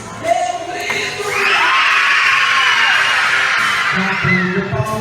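A crowd of young children at a daycare shouts together in one long, loud cheer during a sing-along, with a brief, scattered lead-in of chatter and a trailing off of voices at the end.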